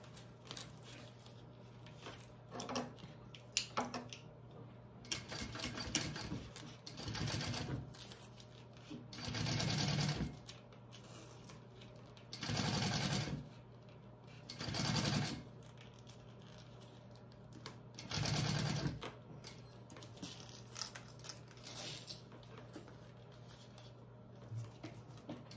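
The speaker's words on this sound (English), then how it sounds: "we are going to top stitch along" A sewing machine top stitches a bag in several distinct bursts of whirring stitching, each a few seconds long and separated by quiet pauses with faint handling noises, close and moderately loud.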